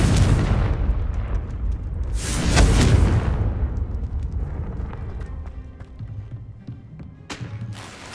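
A Confringo spell explosion in the Hogwarts Legacy video game, a loud booming blast with a burst of crackling debris that swells and rumbles away, followed by lighter impacts and ambient game sound.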